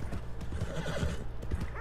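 A horse in the Red Dead Redemption 2 video game gives a close, wavering neigh over steady clip-clopping hooves.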